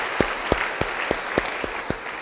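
Rhythmic congregational clapping in a church service, about eight evenly spaced claps in unison, clear and moderately close over a low background wash.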